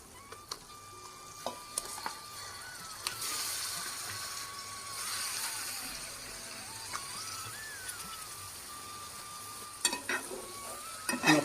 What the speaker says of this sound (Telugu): చికెన్ ఇందులో వేసుకుంటున్నానండి.